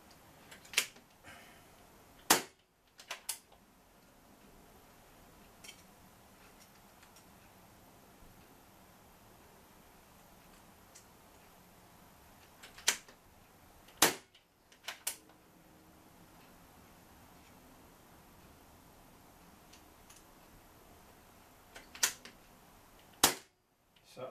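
Daystate Sovereign Rangemaster air rifle firing .177 Diabolo pellets of 10.3 grains over a chronograph: sharp, isolated cracks spaced several seconds apart, some in quick pairs, with faint mechanical clicks and near silence between shots.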